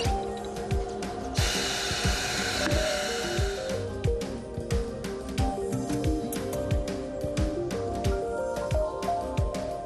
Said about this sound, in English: the upper bead can be demounted using the optional plastic disc while the wheel is slowly rotated